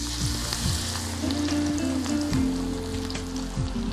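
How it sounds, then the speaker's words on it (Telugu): Pakodi fritters of onion, green chilli and gram flour drop into hot oil and fry with loud, dense, close sizzling and bubbling. A few soft stirring clinks sound over the constant hiss, with no talk. "పకోడీస్ మనం వేసేసుకుందాం."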